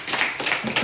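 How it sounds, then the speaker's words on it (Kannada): Brief clapping from a small crowd at an Independence Day games and prize event, a quick spatter of a few hands lasting under a second, moderately close. "ಒಂದ್ಸರಿ ಜೋರ ಚಪ್ಪಾಳೆ ಬರಲಿ"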